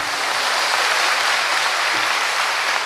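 An audience at a Tamil debate stage show claps steadily throughout, a dense, even wash of applause that holds at the same level without any break.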